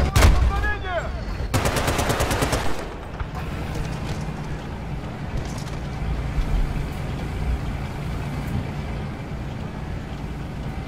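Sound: gunfire in Battlefield Bad Company 2 video game

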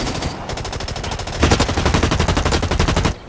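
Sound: gunshot in a video game

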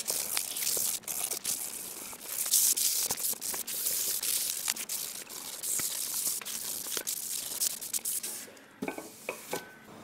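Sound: hand sanding wood edges, Tower of Hanoi build

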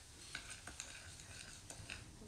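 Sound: quickly stirring a mixture

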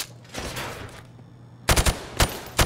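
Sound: gun fired from the hip in video game Call of Duty Modern Warfare Remastered

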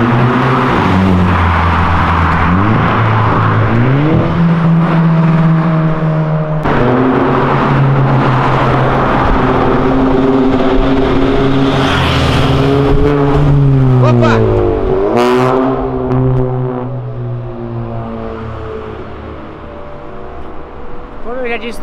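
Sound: car engine downshifting while slowing for speed radar

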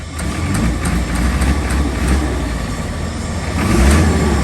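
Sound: remapped car engine revving

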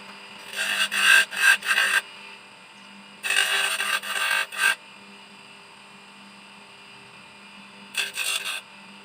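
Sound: boring a hole by hand with a tool

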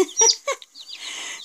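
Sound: newly hatched silver duckwing leghorn chicks peeping

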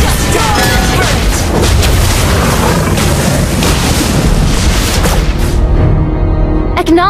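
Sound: turret destroyed explosion in Mobile Legends video game

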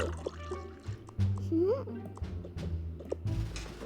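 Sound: pouring strawberry milk in Toca Life World video game

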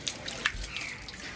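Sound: water being poured as an offering at Shwedagon Pagoda

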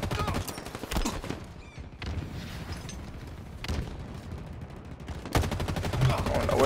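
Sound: pistol gunfire in the video game Halo Infinite

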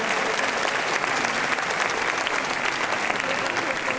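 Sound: audience applause

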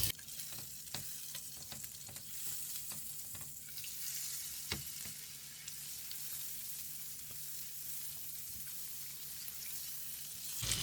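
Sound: walnuts roasting in a pan with butter, sizzling

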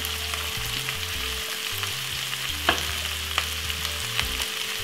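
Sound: stirring bully beef and cabbage frying in a pan

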